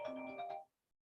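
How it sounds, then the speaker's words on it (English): A mobile phone ringtone plays a short melodic burst of bright electronic tones, fairly loud and clear, then cuts off abruptly into silence. "My phone is ringing there."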